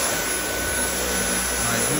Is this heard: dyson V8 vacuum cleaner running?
yes